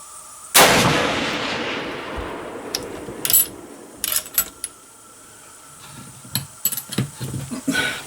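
A single loud deer rifle shot fired at a 250-yard target cracks sharply and rings out in a long decaying echo, followed by quieter handling clicks and knocks.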